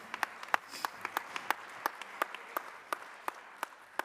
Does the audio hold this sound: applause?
yes